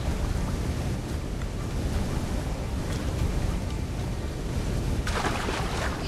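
A waterfall in the video game Assassin's Creed IV Black Flag roars as a steady, dense rush of water, with a brighter surge of spray toward the end.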